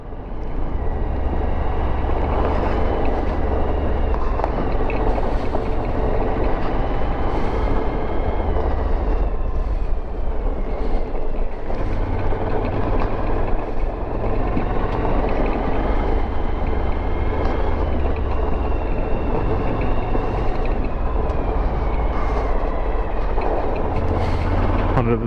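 Heavy rumbling roar of a train crossing a rail bridge overhead, loud and sustained throughout with constant mechanical grinding and clatter near an abandoned cement factory.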